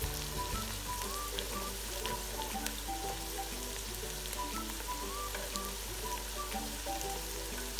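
Chopped capsicum sautéing in a pan with fried peas for a vegetable pulao, a steady, soft sizzle and crackle under a constant low hum, with faint background music throughout.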